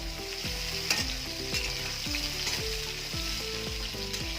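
Taro stolons (kochur loti) fry in a pan with a strong steady sizzle, punctuated by regular scraping strokes of a spatula stirring them, close and continuous.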